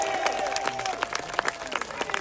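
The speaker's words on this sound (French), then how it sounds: "Oh, courage, on l'applaudit." Audience applauding a fighter at a medieval festival combat display at Château de Thillombois, a steady patter of clapping from a crowd at moderate distance with some murmuring mixed in.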